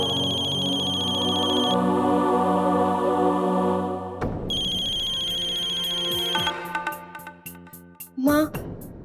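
A phone ringtone plays a repeating electronic melody, loud and close, shifting tune partway through, with a short clatter near the end.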